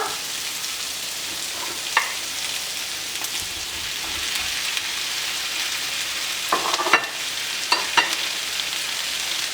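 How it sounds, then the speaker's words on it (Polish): Apples frying with sautéed onion in a pan, a steady close sizzle with occasional stirring clatters and a few sharp pops, no talk. "teraz wrzucimy te jabłka do e, podsmażonej cebuli"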